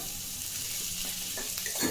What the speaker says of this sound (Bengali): এবার এটা একটু ভেজে ভেজে নেব।